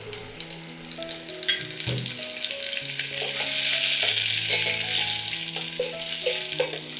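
Shallots, garlic and soaked fenugreek seeds fry in hot coconut oil, giving a steady, close sizzle with the rustle of stirring throughout, backed by soft background music.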